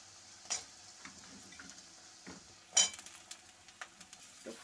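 Cauliflower florets are tipped into onions frying in oil in a pan, giving a soft clatter and brief sizzle burst near the middle, with a smaller stir earlier and faint scraping throughout a fairly quiet scene.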